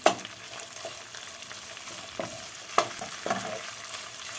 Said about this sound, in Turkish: onları da soğan ve domates salçasıyla beraber kavuruyorum arkadaşlar